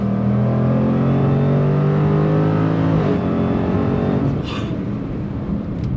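Jaguar F-Pace SVR SUV accelerating hard at full throttle, a loud, close engine roar with rising harmonics that climbs steadily, then a brief shift around the fourth second before the revs build again, heard from inside the cabin.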